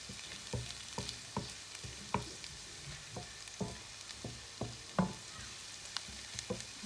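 Chicken browning in a frying pan, a steady soft sizzle broken by regular scraping stirs about every half second, close and fairly quiet with no voices.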